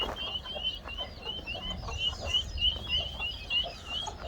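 Guinea fowl chicks keep up a continuous stream of high, thin peeping calls, rapid and overlapping, close by outdoors with a low rumbling background.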